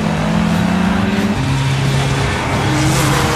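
A race car engine in The Crew video game roars loud and steady, its pitch holding, then dropping and climbing again as it revs, with no voices over it.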